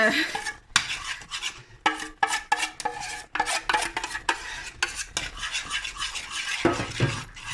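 A spoon working thick akasan batter in a pot over the heat, with steady scraping and stirring strokes that repeat in irregular bursts, close and fairly loud, with no talk.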